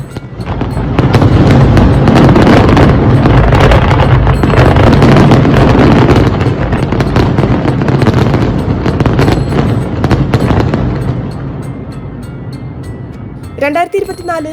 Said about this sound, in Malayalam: ഏറ്റവും നീളം കൂടിയ വെടിക്കെട്ട് എന്ന ഗിന്നസ് റെക്കോർഡാണ് മുനിസിപ്പാലിറ്റിക്ക് ലഭിച്ചത്.